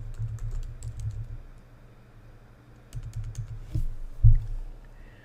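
Keys tapped on a computer keyboard while a password is entered, with a few light clicks at the start, a quiet gap, then a short burst of keystrokes and one sharper tap near the end, close and soft.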